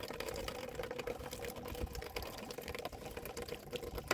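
Fuel draining from a Volvo V70 fuel system during fuel pump work makes a continuous trickle and splash of liquid, close and fairly quiet, with small rattles mixed in.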